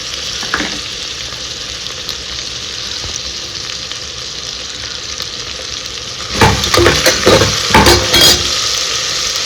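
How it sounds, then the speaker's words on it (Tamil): Crushed ginger and garlic sizzle steadily in hot oil in a pan, a constant frying hiss, and toward the end a spoon scrapes and clatters against the pan as the mixture is stirred. "இடித்த இஞ்சியையும் பூண்டையும் அதில் சேர்த்துடலாம்."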